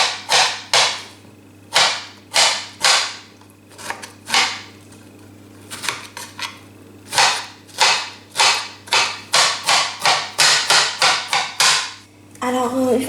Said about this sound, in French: Je vais procéder à la découpe des fraises